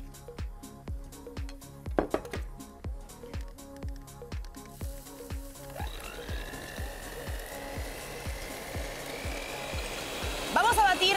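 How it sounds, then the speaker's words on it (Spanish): Sugar, wine and egg are whisked by hand into a sambayón cream, giving a steady, rhythmic series of sharp beating strokes that later blend into a denser, continuous scraping whir. "Vamos a batir y a nunca dejar de batir hasta que se forme una crema"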